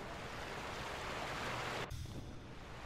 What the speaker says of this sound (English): Sounds like water.